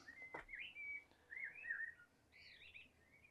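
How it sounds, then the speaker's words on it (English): Birds chirping outdoors in Cortona, Italy: a few faint whistled calls and warbling phrases, some far off, over a quiet background. "birds."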